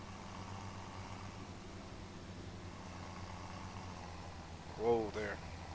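A tractor engine in Farming Simulator 17 runs at a low, steady idle-like hum, faint and constant, with a short louder blip near the end.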